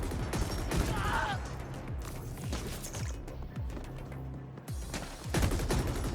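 Rapid bursts of gunfire ring out in the sci-fi shooter The Ascent, sharp repeated shots and automatic fire clattering close and loud over a low rumble, with brief pauses between volleys.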